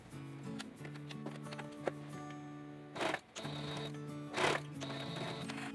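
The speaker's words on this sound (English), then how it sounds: "Now sew the two ends of the elastic together and trim any excess." A sewing machine stitches the two ends of elastic together on a baby romper, running in steady whirring bursts up close with short pauses between runs.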